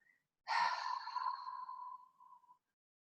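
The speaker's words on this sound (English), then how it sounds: "And slowly exhale for 4." One long, slow exhale on a four count, breathy and airy, fading gradually over about two seconds in near silence.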